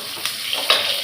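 Dried red chillies, green chillies and onions sauté in a pan with mustard seeds for a tomato kulambu, giving a short, soft, close sizzle with a few light stirring scrapes.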